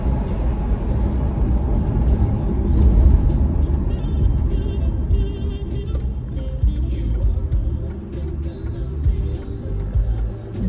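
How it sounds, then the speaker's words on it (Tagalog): Highway traffic heard from inside a moving car in the Philippines: a steady low road rumble and engine drone fills the whole stretch, with faint passing vehicles and a few light clicks above. "Highway na to dito guys"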